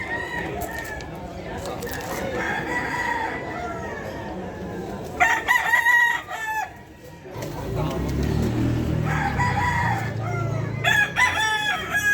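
Red Kelso gamefowl roosters crow repeatedly at a busy pet market, several loud, drawn-out calls rising over clucking, background chatter and passing traffic.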